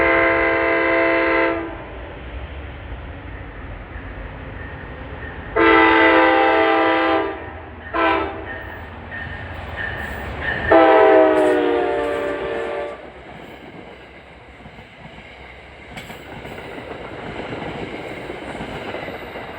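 A NJ Transit commuter train passes near Secaucus and Rutherford, New Jersey, sounding several loud horn blasts in bursts over rumbling wheels and rail noise.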